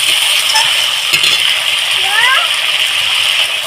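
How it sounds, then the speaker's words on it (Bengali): Tangra fish curry with potato, onion and ground spice paste sautéing in a pan gives a constant bright sizzle with occasional stirring scrapes and a few faint metallic clinks, all fairly close and loud. "দেখুন এইভাবে আমি কষিয়ে নেব আরও পাঁচ মিনিট ধরে"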